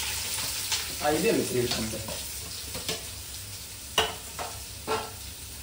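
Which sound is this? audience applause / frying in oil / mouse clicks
frying in oil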